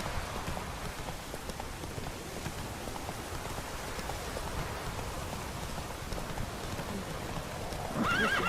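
Roach, Geralt's horse in The Witcher 3, whinnies and clip-clops along in steady rain, hooves thudding continuously under a constant patter of raindrops, with a louder swell near the end.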